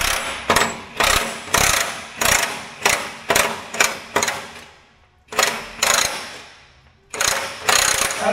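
A socket wrench ratchets bolts on rock guards fitted to a Deere 755K track loader, making repeated loud clicking bursts of two to three seconds, each ending in a brief fade, close up with no talk.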